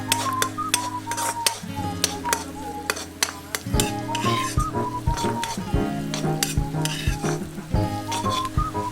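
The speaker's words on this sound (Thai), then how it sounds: "ใส่กระเทียมลงไปนะคะ แล้วก็ค่อยๆ เจียวกระเทียมนะคะ ให้พอหอมค่ะ" Garlic frying in butter or margarine in a pan for shrimp fried rice, a steady close sizzle with frequent metal spatula clinks and stirring scrapes throughout, no talking.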